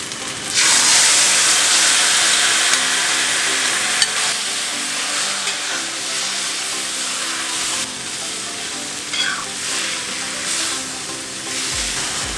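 Rice noodles and sauce are stirred in a hot pan for pad thai, producing a loud, continuous sizzle with hissing steam. Occasional scrapes and clatter of stirring run through it, and nobody speaks.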